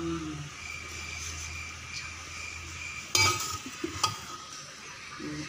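Chicken tikka biryani being served out of a pot, with quiet scraping, a sharp clink of a spoon against metal and a few soft knocks over a faint low background hum.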